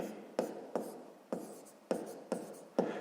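Pen strokes on paper while a statement is written in a sixth-grade maths lesson, six evenly spaced scratchy taps with short tails, close-up and quiet, no speech.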